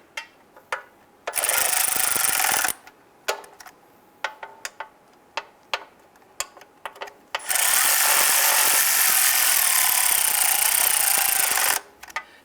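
Oil pan bolts on a 2002-2008 Dodge Ram 1500 are snugged down, making quick ratcheting clicks in uneven bunches and two long steady whirring bursts from a powered ratchet, close and alone without talk.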